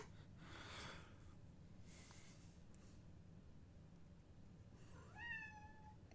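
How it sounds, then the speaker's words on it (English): A cat meows faintly in the background, one drawn-out plaintive cry near the end, over steady low room noise with breathy rustles earlier. "Oh, now there's a cat crying."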